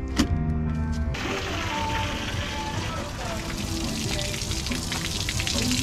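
Running water splashes and flushes crud out of a junkyard Plymouth Fury engine with a steady wet rush that lasts throughout. Someone talks over it.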